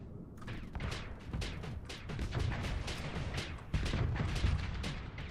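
Ship weapons in the Starsector space combat game firing in rapid, overlapping bursts, a dense barrage of sharp booms and thuds that keeps up throughout, loud and close.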